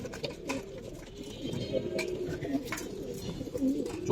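Pigeons cooing in a loft at a Bangladeshi colouring-pigeon farm, a steady low burbling coo with several overlapping birds, moderately close, set against a busy background murmur.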